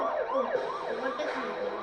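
A wailing police car siren from a car racing video game, sweeping up and down in a steady, continuous loop, loud and close, with no talking over it.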